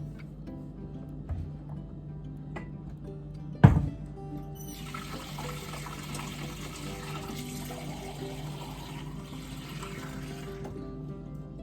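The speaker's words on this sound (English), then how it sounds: "So next I have ice cold water. This is straight from the tap." Ice-cold water runs steadily from a kitchen tap into a container after a brief clunk, a soft continuous stream over a low background hum.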